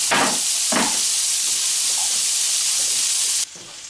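A burger patty fries loudly on a hot griddle, a bright steady sizzle with a couple of sharper bursts early on before the level drops abruptly near the end.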